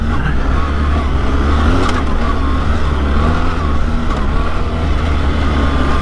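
A BMW R 1300 GS Trophy X motorcycle's rear wheel spins up, bringing a loud, steady engine roar and a rising whir that holds close and constant throughout.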